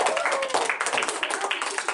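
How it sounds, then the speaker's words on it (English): A round of applause for a student in a classroom-style session on fraud, dense steady clapping from a small group over a constant background, with voices faintly mixed in. "Round of applause for Elizabeth."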